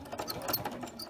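A sewing machine stitches in place to lock the thread during a small free-motion quilting project, a rapid, close, rhythmic mechanical whirring that runs steadily throughout.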